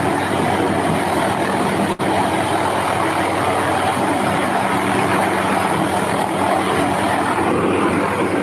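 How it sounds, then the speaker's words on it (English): Helicopter passing overhead, a loud continuous engine and rotor roar that stays steady throughout with no pause, heard alone without talk. "Oh, see, that's a helicopter."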